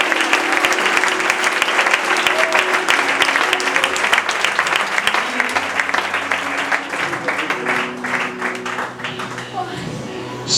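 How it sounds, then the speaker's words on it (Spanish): A church congregation claps steadily for about ten seconds, a loud, dense applause that thins slightly toward the end, with a voice and sustained musical tones running underneath. "Dele ese aplauso al Señor."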